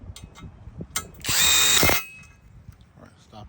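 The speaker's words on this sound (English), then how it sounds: "tighten down the chain tensioner bolt" A power tool whirs for about a second, tightening the chain tensioner bolt on a Nissan 1.8 L engine, framed by quieter clicks and handling noises close by.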